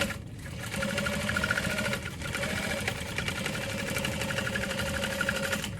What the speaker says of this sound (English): Top stitching this bottom panel is a little difficult